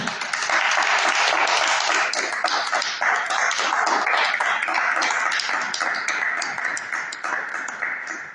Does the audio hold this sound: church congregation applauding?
yes